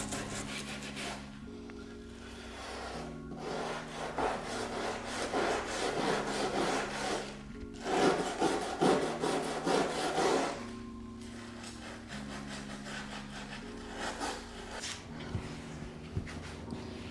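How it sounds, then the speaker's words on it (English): A brush and steel wool scrub the finish off a wooden sideboard in repeated back-and-forth rasping strokes, alternating with short pauses, close up with no talking. "I took my brush to it, my steel wool, and really just tried to work as much of that stuff off as possible."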